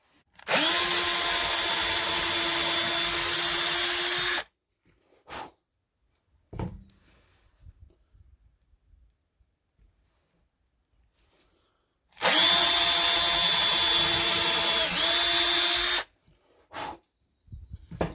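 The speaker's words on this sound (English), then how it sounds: "Now we're going to take a scrap piece of wood so that I don't drill through the metal table." A power drill bores through metal into scrap wood in two loud, sustained bursts of about four seconds each, with quiet clunks and handling noises in the pause between them.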